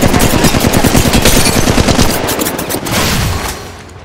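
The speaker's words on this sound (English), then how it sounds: "Getting shot at." Rapid automatic gunfire in the mobile shooter Apex Legends Mobile, a loud, dense burst of continuous shots that rattles on for several seconds before tapering off.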